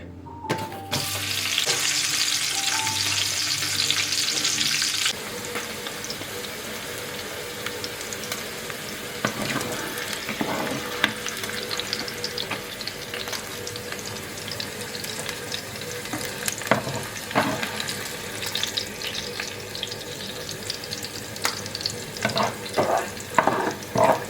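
Sliced onions and peppers fry in oil, dropped in after potatoes, making a loud continuous sizzle close by, with a brief burst of running water at the start and scattered clinks and stirring sounds throughout.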